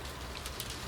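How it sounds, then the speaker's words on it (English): Steady rain falling outside a greenhouse, a dense continuous hiss of drops pattering on the surface, with a few brighter drip taps over the wash. "As you can hear, it's raining again outside"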